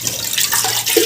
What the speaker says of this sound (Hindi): डालूंगी पानी